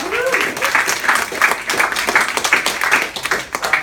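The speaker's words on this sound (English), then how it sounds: "Can we give Raman a round of applause?" Live audience applauding at a business presentation, a steady wash of many hands clapping that carries loudly through the whole moment.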